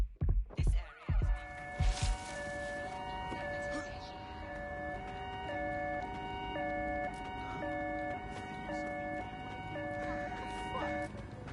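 Ambulance siren in the video game Watch Dogs: Legion, wailing through repeated rising and falling tones for most of the stretch after a few sharp bangs at the start, with game voices talking over it.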